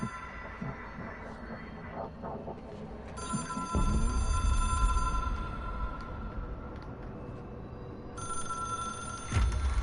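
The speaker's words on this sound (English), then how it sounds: "I hear a phone." An old-style telephone rings in the video game Control, with bright bell trills starting and stopping in repeated bursts. A low rumble sits underneath, and there is no clear speech.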